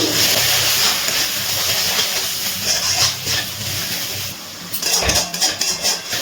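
Chicken masala spices frying over a medium gas flame, a steady close sizzle and hiss, with brief clatters of a spoon stirring against the pan near the end.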